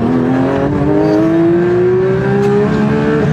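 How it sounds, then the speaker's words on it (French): A new car's engine revs hard and rises steadily in pitch, a loud, close, sustained racing-style whine that climbs without a break. "On dirait une voiture de course,"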